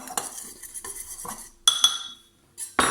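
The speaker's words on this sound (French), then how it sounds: "Je mélange donc le sachet de levure chimique avec la farine" Baking powder stirred quickly into flour in a bowl for small chocolate cakes, giving a close series of scraping, clinking utensil strokes in bursts, a short quiet gap, then a louder final flurry.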